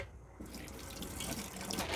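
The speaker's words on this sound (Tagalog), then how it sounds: "Ayan guys, kumukulo na." Water boiling in a pot on a stove for pancit canton noodles gives a steady, close bubbling rush that holds throughout and swells slightly toward the end, with no talking.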